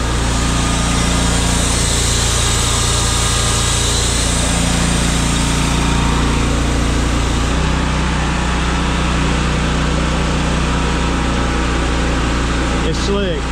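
Air compressor on a new Miller Bobcat 265 AirPak engine-driven welder, running as a steady, loud mechanical drone with a constant hum that continues throughout, its pitch dropping slightly partway.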